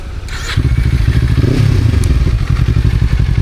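A small trail motorcycle with an aftermarket exhaust idles close and loud, its engine throbbing in an even, rapid purring pulse after starting up.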